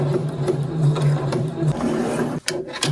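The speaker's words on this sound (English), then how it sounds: "And now I'm just gonna sew along this line." A sewing machine stitches pieces of a doll dress together, its steady motor hum and rapid needle patter running continuously, close and loud, with a brief pause near the end.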